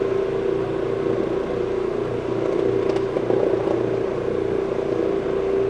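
Orbot Vibe floor cleaning machine with an Encap bonnet making a dry pass, a steady droning hum with a constant tonal whine and low rumble, close and continuous with no pauses.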